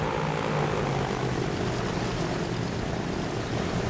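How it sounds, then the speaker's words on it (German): Propeller airplanes droning in flight in the video game Transport Fever 2, a steady, even engine hum with a faint buzzing tone, continuous and moderately quiet with no talking. "Und die Flugzeuge sind schon auf dem Weg."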